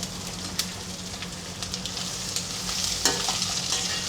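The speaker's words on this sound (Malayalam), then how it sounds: "വറ്റൽ മുളക് വെളുത്തുള്ളി രണ്ടിനെ ഒന്നിച്ച് വഴറ്റുകയാണ് ഞാൻ ചെയ്യുന്നത്" Dried red chillies and garlic sautéing together in a hot pan, a steady close sizzle with intermittent stirring scrapes and pops throughout, no talking.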